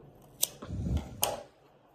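Scissors snipping crochet yarn close up, two crisp metallic clicks of the blades about a second apart with a soft rustle of handled yarn between them.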